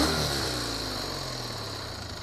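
A Kawasaki W800 motorcycle engine runs at motorway speed on an A-road, a steady, fairly quiet drone mixed with rushing wind, slowly fading over a couple of seconds.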